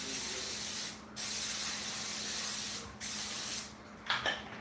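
Olive oil cooking spray hisses into a cake pan in three bursts, two steady sprays followed by a shorter, sputtering one, close and fairly loud with no talking.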